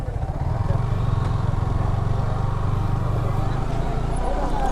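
Two motorbikes pass close by on a rural road, their engines making a loud, continuous chugging putter that stays steady for several seconds, with faint background chatter.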